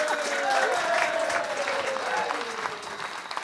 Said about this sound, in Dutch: Geef ze een groot applaus